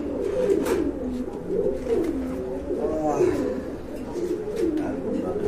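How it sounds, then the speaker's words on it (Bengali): Pigeons cooing in a loft of breeding pairs kept for sale, steady overlapping rolling coos repeating throughout, close and fairly loud. "মাশাআল্লাহ খুবই সুন্দর কিউট কবুতর"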